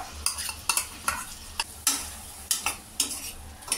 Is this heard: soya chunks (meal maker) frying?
yes